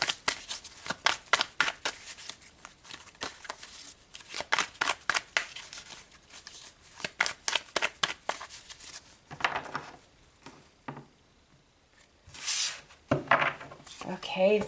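Tarot cards shuffled by hand in repeated riffling bursts, near and clear, with short pauses between runs and a few softer handling sounds.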